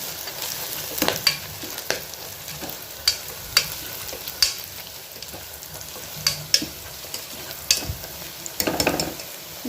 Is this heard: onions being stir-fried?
yes